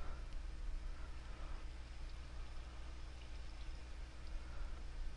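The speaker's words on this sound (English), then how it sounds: "There's the water." Water flowing in the Minecraft video game, a steady low rushing and pouring stream that runs continuously at a fairly quiet, even level with no talking over it.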